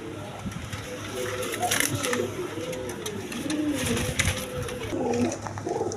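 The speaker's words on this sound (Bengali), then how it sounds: "এক পেয়ার ব্ল্যাক লেস শার্টিং কবুতর আছে" Black lace shirting pigeons, a pair, coo in soft repeated rolling calls nearby, with a voice talking over them throughout.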